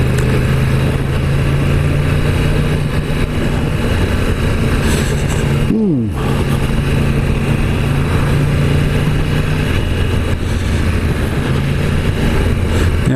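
A 2016 Yamaha YZF R1 motorcycle engine drones loudly and continuously while riding, under heavy wind rush, with one quick rev blip midway as the rider shifts.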